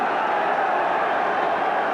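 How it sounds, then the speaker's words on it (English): Tottenham Hotspur home crowd cheering after a Spurs goal at a 1970s football match against Manchester United, a dense, steady roar of many voices that fills the whole stretch without a break. "So now that's a happier Tottenham crowd"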